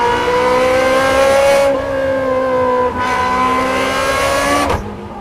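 Close and loud, a Ferrari Scuderia fitted with a Klein exhaust revs in a sharp, howling rise, dropping off twice and climbing again before cutting away near the end, with nobody speaking over it.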